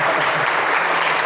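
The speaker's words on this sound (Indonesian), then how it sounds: "Tepuk tangan dong." A seminar audience in a school hall in Jakarta breaks into loud, dense clapping that holds steady through the short moment.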